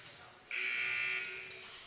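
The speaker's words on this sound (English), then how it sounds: "Buzzer sounds." Scoreboard buzzer sounds in a high school gym during a varsity boys basketball game, a single loud, steady blast of under a second over low arena noise.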